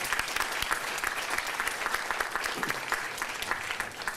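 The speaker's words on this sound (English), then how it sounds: "So I'd like to give a round of applause to Fornia, Joe, and all the people of GCFF." A full round of applause from a lunch panel audience, steady, dense clapping throughout, fairly quiet and continuous with no talk over it.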